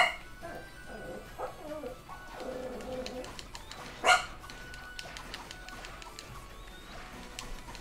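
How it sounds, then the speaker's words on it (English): A pet dog named Lucy gives a single sharp bark midway in a quiet room, preceded by faint indoor shuffling and murmurs. "Lucy's barking because Kathy might be home."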